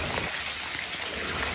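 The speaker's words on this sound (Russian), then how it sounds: "Ой, дождь, капец" Rain falls outdoors as a continuous, even hiss of drops hitting surfaces, moderately loud and steady from start to end with no voices.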